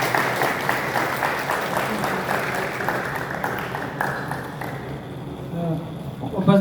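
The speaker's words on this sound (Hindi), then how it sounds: "तो जोरदार तालियों से सिद्धार्थ सर का स्वागत करते हैं।" Audience applause welcomes a speaker onto the stage at a Swachhta Pakhwada inaugural session on a college campus, a steady, dense wash of many hands clapping that carries throughout and thins slightly near the end.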